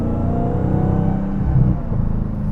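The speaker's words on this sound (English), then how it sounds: "I just pressed on the gas a little bit hard, and the rear wheels just" A Dodge Challenger Hellcat Jailbreak accelerates hard from about 40 mph, its rear wheels losing grip. The engine note is a loud, steady, close rumble that swells slightly partway through.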